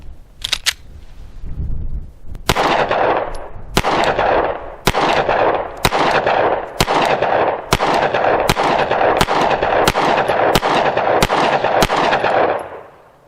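A Sig Sauer P365 9mm pistol fires about a dozen sharp, loud shots at a steady, evenly spaced pace at an outdoor target five yards away. Two faint clicks come first, and each report rings briefly before the next.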